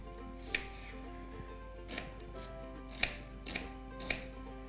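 A knife chops medium onions on a cutting board in a few sharp, unhurried strikes, close and distinct over a quiet steady hum.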